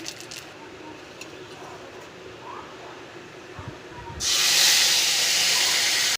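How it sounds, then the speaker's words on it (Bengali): A dried red chilli tempering dropped into hot oil for dal: after a few quiet seconds with light clinks, a sudden loud, continuous hissing sizzle bursts up and holds steady. "এদিকে তেলটাও বসিয়ে দিয়েছি, তেলটা গরম হয়ে গেছে। একটা শুকনো লঙ্কার 5 ফোড়ন দিয়ে দেবো।"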